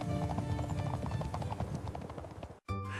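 Horse hooves clip-clopping at a steady trot as Cinderella rides to the castle in a storybook tale, rhythmic and close, then cut off abruptly before a brief different tone.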